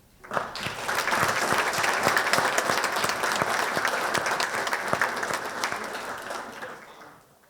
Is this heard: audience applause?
yes